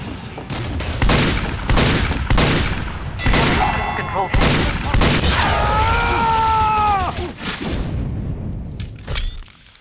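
Team Fortress 2 battle gunfire: a rapid string of loud, close shots and thuds, with a whooshing, whistling effect midway, then quiet at the end.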